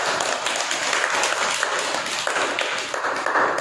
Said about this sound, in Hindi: चलिए आलिया के लिए ताली बजाइए